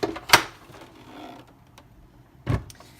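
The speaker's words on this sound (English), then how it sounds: "So I'm going to bring in my platinum die cut machine." A Platinum die cut machine running a large die through, with a sharp mechanical clunk near the start, a low whirring grind, and another clunk near the end, close and moderately loud.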